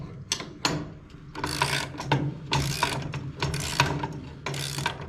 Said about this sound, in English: I'm tightening this screw onto the nut that I put on the other side of the strap